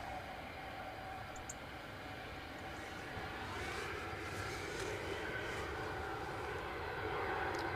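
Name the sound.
United Airlines Boeing 757 departing Edinburgh Airport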